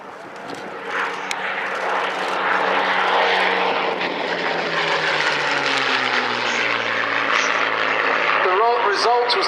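A P-51D Mustang and a Spitfire, both with Merlin engines, fly past at the Dunsfold Wings & Wheels airshow, giving a loud, sustained propeller drone that shifts in pitch as they pass. A commentator talks over the engines.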